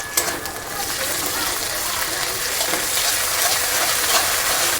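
Chopped onions with bay leaf, whole cumin and dried red chilli sizzle in hot oil for aloo dum, a steady bright hiss that carries on without a break.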